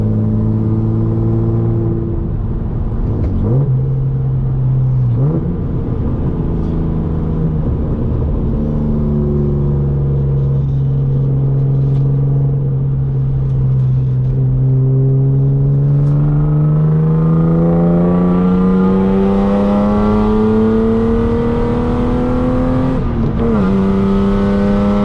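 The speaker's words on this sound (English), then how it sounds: "It's crazy loud and we're gonna go for a drive" A loud, modified BMW E36 drives close by, its engine droning and rising and falling as it revs through the gears, with a steady rumbling exhaust throughout and no talking.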